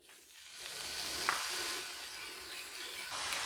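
Pork belly sizzling in a hot pan, a steady bright hiss of fat crisping and caramelizing, fairly close and constant with slight swells.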